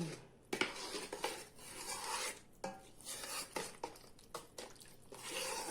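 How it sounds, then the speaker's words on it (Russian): Flour stirred into batter for dough in a bowl, soft scraping strokes with occasional clicks of the utensil against the dish, quiet and close, in irregular bursts with short pauses. "Добавляем муку и аккуратно мешаем."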